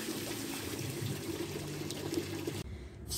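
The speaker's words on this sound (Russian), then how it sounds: "Вот видите, прямо из стены тоже бегут ручейки." Water trickles in small streams from pipes and out of a stone wall at an icy outdoor spring, a steady close babbling flow with no talk, cutting off abruptly near the end.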